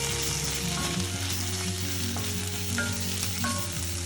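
Chicken puff filling with a teaspoon of tomato ketchup sizzling and frying in a pan as it is tossed, steady hiss with occasional stirring scrapes, no voices.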